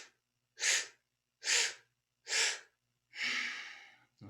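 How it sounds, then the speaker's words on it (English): Kundalini yoga breath work: three sharp, evenly spaced breaths drawn in through a rounded mouth, then a longer, rushing breath, all close and loud with silence between strokes. "4 strokes in through the mouth and 1 out through the nose"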